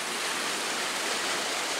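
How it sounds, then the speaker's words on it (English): Water flows into a canal lock in a steady loud rushing hiss, continuous and close, with no voices. "So the water's higher on this side, so they're letting the water in kind of slowly"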